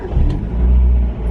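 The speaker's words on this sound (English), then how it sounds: "Let's start the car, make sure it's running." A Mazda Miata engine fires up after an alternator replacement, a brief close rumbling crank and catch that settles into a steady low idle.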